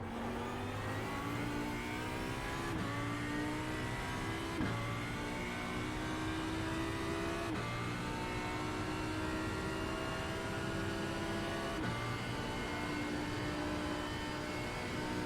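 An Audi R8 LMS EVO II GT3 race car engine at Bathurst in iRacing, accelerating hard through rising gears with upshift breaks, steady and loud throughout with no talk.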